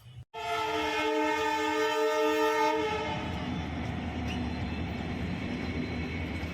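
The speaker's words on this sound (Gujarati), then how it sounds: "આજ કડીમાં પહેલી વખત ટ્રેન દોડી આફ્ટર 10 years" A train horn blares loudly for about three seconds as the train runs past, followed by a steady rumbling roar of the passing cars.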